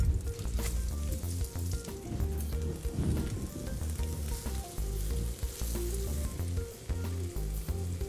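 Veal slices sizzling in butter in a pan for saltimbocca alla romana, a steady crackling fry with strong low tonal hum underneath, continuous and fairly loud throughout with no talking.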